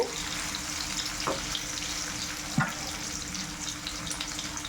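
Shredded chicken fries with onions in a hot pan, a steady close sizzle broken by a couple of brief clinks and stirring bumps.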